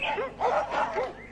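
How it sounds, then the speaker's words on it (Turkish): Several shepherd dogs bark and yip in quick succession at close range, sharp repeated calls with whiny overtones. "Bu köpekler de nereden çıktı böyle?"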